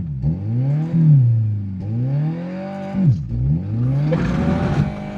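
A car running with a broken differential and movie theater popcorn butter in place of engine oil whines and revs in loud, close, repeating rising-and-falling surges, then a rougher grinding burst near the end.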